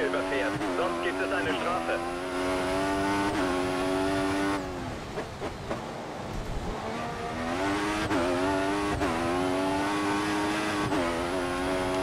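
In the F1 2014 video game, a Williams Formula 1 car drives out onto the Albert Park track for practice, its high-pitched engine revving up and down through gear changes, loud and close, with a voice talking over it.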